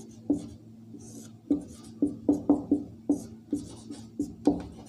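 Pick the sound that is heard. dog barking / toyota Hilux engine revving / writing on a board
writing on a board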